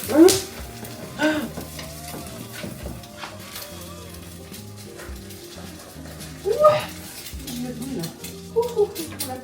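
Steady sizzling of an egg frying in a pan, with a person talking and a dog whimpering and yelping nearby.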